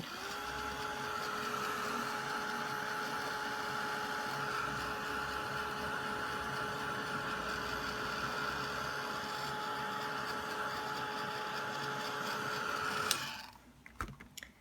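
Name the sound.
heat tool drying Distress Crayon background layers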